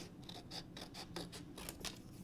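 Scissors cut through card paper for mixed media card making, giving a quick series of about eight crisp snips in steady rhythm, close and quiet with no talking.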